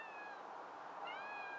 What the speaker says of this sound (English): We have a cat walking the perimeter.